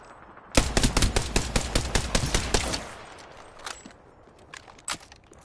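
Rapid automatic gunfire from the Apex Legends video game, a dense loud burst of shots for about two seconds, followed by a few scattered, fainter shots and clicks.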